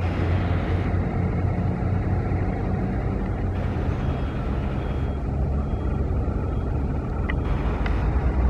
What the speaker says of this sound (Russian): Это мой скутер.